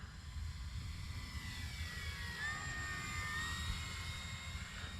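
An E-flite Cirrus SR22T RC airplane cruises low and slow with its landing flaps down, its electric motor giving a steady whine that sweeps gently in pitch as it passes, over constant outdoor wind rumble.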